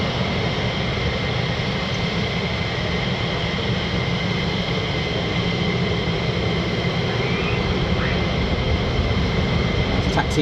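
An F-15 or F-35 fighter jet taxiing at RAF Lakenheath gives off a constant, even engine roar and whine that holds at one level for the whole stretch, with no clear gaps or changes.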